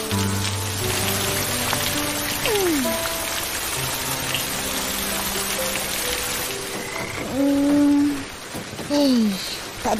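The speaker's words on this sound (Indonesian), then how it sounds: "Boleh pula hujan lebat tak berhenti-henti." Heavy rain pours steadily on surfaces in an animated cartoon scene, a constant wash of drops throughout, with frog-like croaks and occasional sliding whistle-like cartoon tones breaking in over it.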